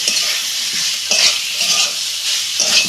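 Mixed vegetables and spices for egg curry sizzle loudly in hot oil while being stirred, a dense continuous frying hiss with scraping strokes, close and without talk.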